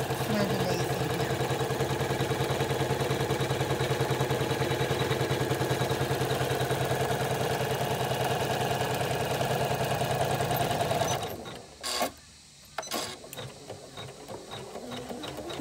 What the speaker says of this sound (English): Now that'll take a while to stitch